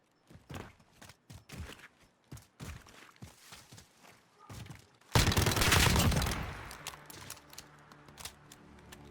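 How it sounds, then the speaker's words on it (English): Gunfire and footsteps in a video game 1v1 gunfight: soft scattered steps and taps, then a sudden loud burst of rapid automatic fire from an Uzi midway that trails off into quieter echoes. "Man, that was a quick Uzi round, literally right in the face."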